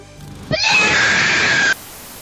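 A cartoon girl lets out a single loud, sustained high-pitched scream lasting just over a second, harsh and strained, cutting off abruptly into quiet.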